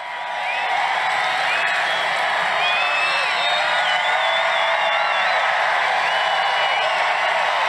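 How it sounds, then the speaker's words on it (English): Large outdoor political rally crowd in Alabama roaring and cheering continuously, a dense steady wash of voices with scattered whistles and whoops rising above it throughout. "Now the crowd's into it."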